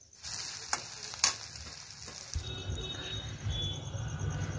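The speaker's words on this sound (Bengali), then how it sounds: "এই তো পেঁয়াজ ভাজা হয়ে গেছে আর মশলা দিয়ে দিচ্ছি" Onions frying in oil in a pan, a soft steady sizzle that grows denser and louder halfway through, with a few light clinks of a utensil early on.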